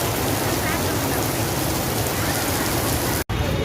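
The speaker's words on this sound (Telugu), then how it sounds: "వర్షం మాత్రం మామూలుగా పడట్లేదు ఫ్రెండ్స్." Heavy rain pours down continuously outside a shopping mall, a loud, dense, steady hiss with a brief cut near the end.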